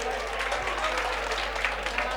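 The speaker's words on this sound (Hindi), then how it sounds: "इनके लिए एक बार ज़ोरदार तालियां बजा दीजिए।" Audience at an Independence Day mushaira poetry gathering in Sakinaka claps, a steady wash of many hands heard close and continuous under a voice speaking.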